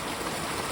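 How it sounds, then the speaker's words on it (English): A waterfall beside a Colorado Trail hiking path in the rain, a dense, constant rushing of falling water that fills the sound evenly, close and loud with no variation over the short span. "We don't have waterfalls like that very often,"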